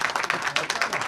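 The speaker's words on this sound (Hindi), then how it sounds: "जोरदार ताली बजा दो भैया" An audience at a traders' association gathering in India claps loudly, with dense, continuous applause from a crowd and many hands beating close together throughout.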